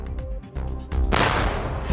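Strong firecrackers such as baby rockets, whistle bombs and triangulo burst in sharp loud cracks, followed by a dense crackling volley that fills the air.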